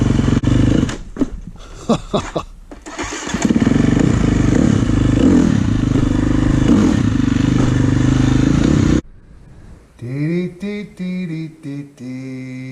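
A KTM four-stroke motorcycle engine runs loud and close during a warm-up ride, a steady roar with revving swells, then cuts to quieter idling and a few rising revs near the end.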